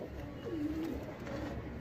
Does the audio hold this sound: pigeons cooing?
yes